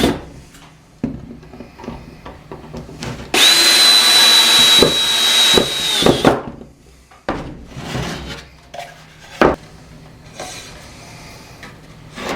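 A drill whines steadily for about three seconds while it bores pocket holes into scrap wood, with scattered knocks, clatter and handling of wood pieces before and after.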